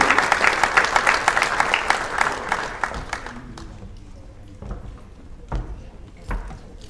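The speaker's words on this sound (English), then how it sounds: "Let's give them a round of applause as they step onto the podium." An audience at a sports awards ceremony claps loudly and steadily for a few seconds, then the applause thins out into scattered claps and fades.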